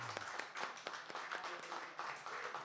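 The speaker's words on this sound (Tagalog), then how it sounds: "Talagang papalakpak ka ng normal na pinakamalakas sa Lord." A church congregation applauding loudly in praise, a quick, dense run of many hands clapping, sharp and steady for a few seconds, fairly faint overall.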